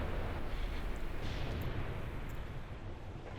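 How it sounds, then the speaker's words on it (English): Artillery fire in a Graviteam Tactics wargame battle: a continuous, distant rumbling roar of shelling and blasts blends into a dense, steady wash of noise without distinct individual shots. "There's our artillery starting to come in nearly."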